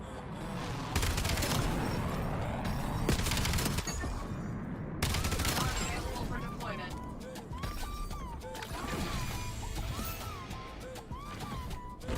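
Call of Duty video game gunfire: repeated bursts of automatic shots and blasts over a busy battlefield soundscape, with someone talking over the action.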